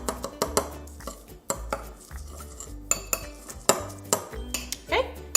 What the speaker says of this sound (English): Now we're gonna mix everything together.